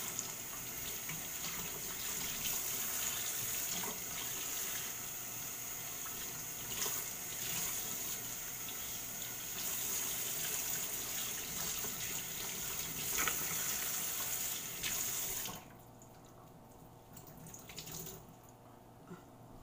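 Water from a sink tap runs continuously as hair is rinsed, a soft, fairly quiet splashing hiss lasting most of the time before dropping away near the end.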